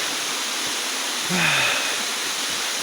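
Steady broadband roar of the Gunung Betung waterfall fills the scene, with a brief faint bird-like chirp partway through.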